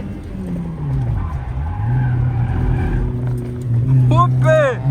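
Car tyres skidding and squealing under a revving engine, a sustained loud screech that rises and wavers, with someone talking over it.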